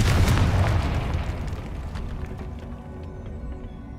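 A Confringo blasting spell detonates in a video game, a loud booming explosion at the start that rolls off into a long fading rumble with scattered debris crackle.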